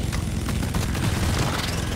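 Rapid, dense gunfire rattles nonstop in the co-op mining shooter Deep Rock Galactic, a loud continuous burst of shots filling the whole moment without pause.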